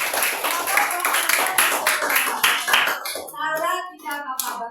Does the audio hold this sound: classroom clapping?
yes